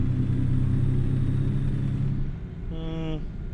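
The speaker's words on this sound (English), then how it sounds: "And the engine sounds good as well." A truck engine in American Truck Simulator rumbles low and steady up close, then eases off as a brief tonal whine rises over it.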